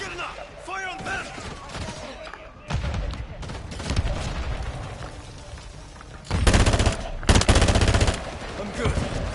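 Gunfire from Call of Duty Modern Warfare III: repeated automatic bursts and heavy shots, loudest in two dense volleys near the end, with game voices over the combat.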